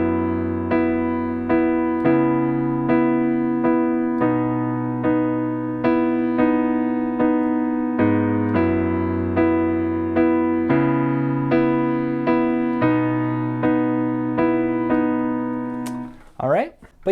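Piano plays the pre-chorus chord progression of a song as an easy accompaniment, with steady repeated chords and a low bass that shifts every couple of seconds, ending in a brief handling noise.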